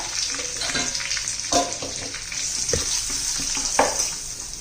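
Bottle gourd and lentils are stirred into spices, red chilli powder and turmeric in a pan, giving a moderate sizzle with clinks and scraping of the spoon against the pan, close by.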